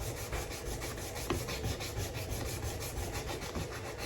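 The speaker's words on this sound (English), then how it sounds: "What I'm doing here is trying to sand the grind lines out of the stainless pins." Steady, close rubbing and rasping of sandpaper on stainless steel handle pins of an old cleaver being restored, keeping up a continuous scratchy rhythm throughout with no voices.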